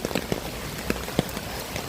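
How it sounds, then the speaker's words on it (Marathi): Heavy rain falling on a road, a dense hiss of drops with scattered sharper spatters, steady and close. "त्या रस्त्याने बघा किती पाऊस"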